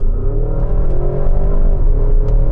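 A Porsche Cayenne Turbo GT engine revs up steadily as the SUV accelerates, a deep, loud rising growl heard from close by, less punchy low down before the power builds.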